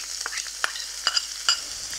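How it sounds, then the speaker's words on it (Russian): Chopped onion frying in a pan, a steady sizzle with a few soft scraping stirs. "Будем его жарить. Пусть жарится."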